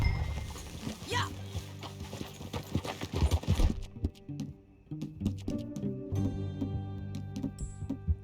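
Horse hooves clip-clop at a steady riding pace in the Red Dead Redemption 2 video game, close and moderately loud, with faint background sounds beneath.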